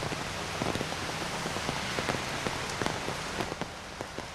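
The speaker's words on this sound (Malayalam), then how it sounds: "കൊച്ചിയിൽ കനത്ത മഴയാണ്" Heavy rain falls in Kochi, a dense, steady roar of drops pounding surfaces with scattered sharper splats standing out, loud and continuous with no voices.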